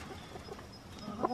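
Chickens and a rooster clucking in a backyard flock during a morning walk, short faint calls over a quiet outdoor background, with a slightly louder burst near the end.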